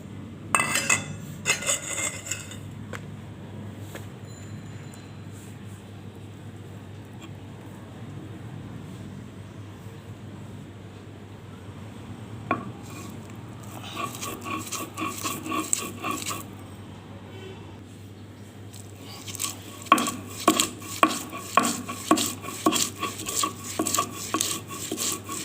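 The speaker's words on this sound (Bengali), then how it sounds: "তো রসুন এবং ধনিয়া পাতা, কাঁচা পেঁয়াজ বাটানো হয়ে গেছে।" Coriander leaves, raw garlic and onion are ground into a paste with pointed gourd peel, with quiet stretches followed by rhythmic, close grinding and scraping strokes that grow louder and faster toward the end.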